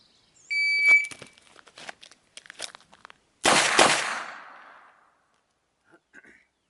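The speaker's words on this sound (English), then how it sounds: "Let's shoot one double." Handgun fired at a target in a double, preceded by a shot timer's beep and rustling of a draw from ankle carry, then a sharp loud report with a short decay.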